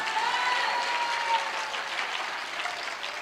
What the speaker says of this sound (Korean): 박수 치려면 세게 쳐